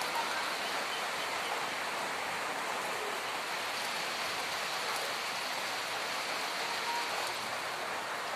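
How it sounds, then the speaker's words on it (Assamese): Heavy rain falls steadily during a storm with strong winds in Nagaon, a dense, even hiss of drops on surfaces that continues without a break and with no voices. "এতিয়া বৰষুণ দি আছে"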